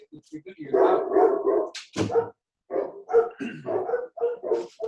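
A dog barks in a string of short, close yaps that come and go over several seconds, mixed with people's voices talking and reacting.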